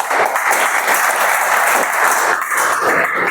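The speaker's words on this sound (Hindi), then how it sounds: "तो सर ये वाइब्रेंट विवाह के लिए एक बार तालियां चाहूँगा सर" Audience applause fills a business plan presentation hall, steady dense clapping from a crowd that holds at full strength throughout, with no voices over it.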